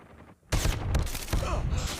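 Dense gunfire erupts in a Call of Duty match after a brief quiet moment, a loud continuous burst of shots and impacts lasting to the end.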